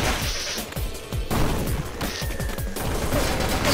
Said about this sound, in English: Yeah, the Tommy gun.